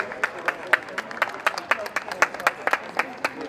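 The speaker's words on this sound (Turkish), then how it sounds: "Bir alkışlayabilir miyiz lütfen?" Guests at a wedding celebration in Antalya clap for a band, a fairly close crowd patter of hands with distinct individual claps standing out, continuous and with no talk over it.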